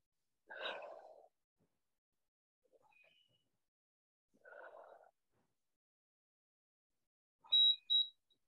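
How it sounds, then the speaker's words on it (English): Two short electronic beeps near the end, crisp and fairly loud, after quiet breathing sounds and stillness. "There's your beep, nice and easy out."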